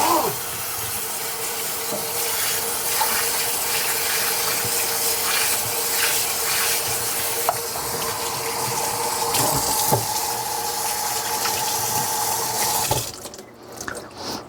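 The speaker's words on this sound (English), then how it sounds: "I'm going to rinse this mixture off of here." Ice cream mixture is rinsed off under a running kitchen tap, a steady, close hiss of flowing water with small splashes that cuts off abruptly near the end.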